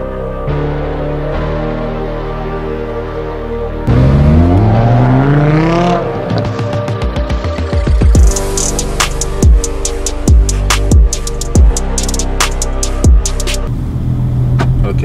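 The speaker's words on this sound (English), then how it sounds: "now that is what I call a sound of an engine" A Lamborghini Huracan Spyder with a V8 engine idles loudly, then revs hard with a rising, howling pitch sweep, followed by a series of sharp exhaust crackles and pops as the engine falls back, all close and without talk.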